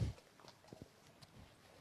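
Racehorses walking past at the Nantes racecourse, faint hooves clip-clopping in a few soft uneven steps, distant and quiet with no talk.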